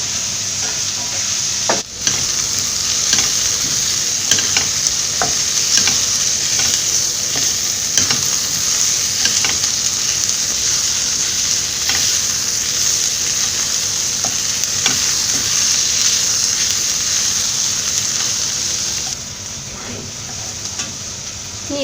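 Onion and salt sautéing in a pan for Kerala-style nadan mutton curry masala, a steady close sizzle with occasional stirring scrapes running throughout, no voices.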